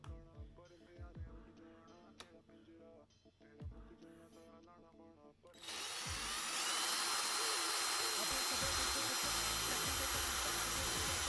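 A power drill whines loudly and steadily while boring a hole through a shoe-horn for rivets, starting after several seconds of quieter clatter and tapping.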